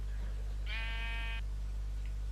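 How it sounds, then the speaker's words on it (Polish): A single sheep bleat from Minecraft, a clear harmonic call lasting under a second, heard alone over a steady low hum with no talking. "Gdzie jest ta owca?"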